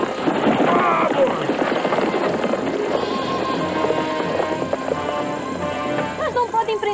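Horses set off at a gallop in a 1958 Zorro adventure film, hooves pounding steadily beneath shouting voices and a busy, full soundtrack.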